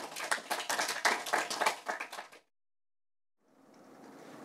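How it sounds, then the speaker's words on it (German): A burst of many hands clapping close by from an audience at a film screening for about two seconds, then a pause before the applause resumes more softly. "Ja, bitte Applaus nochmal."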